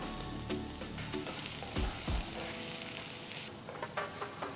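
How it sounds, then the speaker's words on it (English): Finely chopped onion and garlic frying in a tablespoon of oil in a pan for chilli potato, a loud continuous sizzle with a couple of low thumps and clatters partway through. "To this add 1 medium-sized onion finely chopped"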